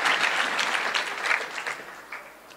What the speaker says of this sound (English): Please clap for Jesus.